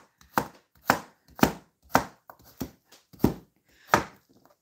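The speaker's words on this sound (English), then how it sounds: "So, yeah, I'm just sitting here chopping zucchini." Steady knife chopping through zucchini, eight sharp close thuds on a cutting board at a regular rhythm, with brief quiet gaps between strokes.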